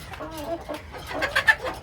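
Several chickens cluck close by in short, uneven bursts, with a few sharper squawks toward the end and no talking.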